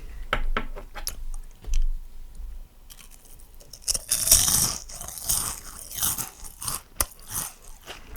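Fried seaweed chips (gimbugak) from a military ration, crunched close to the microphone: repeated crisp bites and chewing crackles in irregular bursts, with quiet pauses between them.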